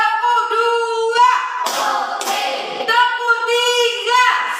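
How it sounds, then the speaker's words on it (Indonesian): A group of schoolchildren in a counseling session claps together in a counted pattern, bursts of hand claps rising midway over a sustained tonal voice that runs through most of the moment. "Siap, fokus, tepuk 1, tepuk 2,"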